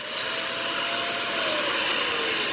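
A Hoover React vacuum cleaner that was switched back on after a clog runs loud and steady. Its motor drone and airflow roar are close and continuous, with no pauses.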